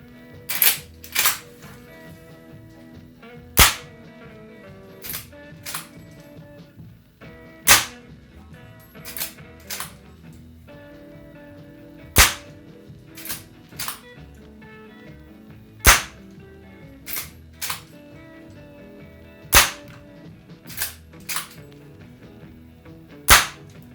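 A&K 1892 lever-action airsoft rifle replica shooting 0.2 g BBs on green gas over a chronograph, giving sharp separate cracks at irregular intervals, some in quick pairs, with lever-cycling clatter between shots and no talking.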